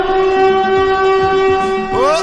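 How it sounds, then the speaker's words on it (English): A lookout siren on a game show sounds a steady, loud, sustained wailing tone that holds without a break for about two seconds and bends slightly at the end. "it's the lookout siren"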